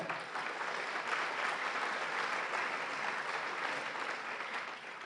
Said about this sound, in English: So please, a big round of applause for our staff.